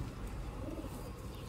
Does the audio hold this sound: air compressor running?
no